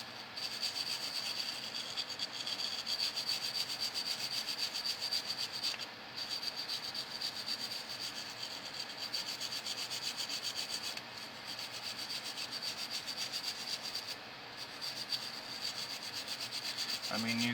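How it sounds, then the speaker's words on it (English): Steady, faint rubbing as the top layer of paint is worked off a small painted Baby Groot figure, a continuous close scratchy friction with brief pauses and no talk. "You only want to rub away a top layer of the paint, you don't want to take all the paint off."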